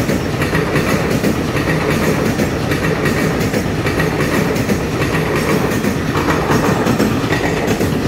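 A ten-car EMU900 electric multiple unit commuter train on Taiwan's Yilan line passes close by, with a loud, steady rush of wheels and rhythmic clickety-clack on the rails for the whole stretch, no voices.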